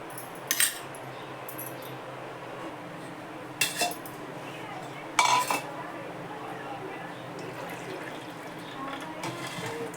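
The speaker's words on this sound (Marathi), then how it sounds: "एकदा गाळून घेते दुसऱ्या भांड्यात." Sol kadhi being strained through a small strainer into another pot, with a few sharp metallic clinks of the strainer against the vessel spaced over a low, steady background.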